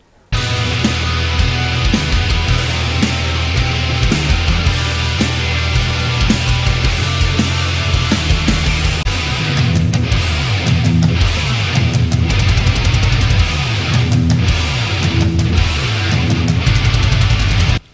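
Black metal guitar riffs, loud and dense, with fast tremolo-picked distorted guitars and pounding low-end drum patterns running continuously throughout, no talking.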